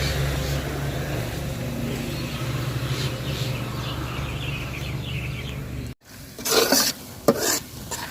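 Onions frying in a pan while being stirred for a beef curry, a steady sizzle with scraping strokes for about six seconds, then a brief gap followed by louder bursts of frying.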